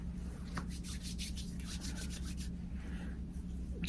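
Face mask cream is rubbed into skin with close, soft, rhythmic swishing strokes, a quick run of them followed by slower, fainter rubbing, with no talking.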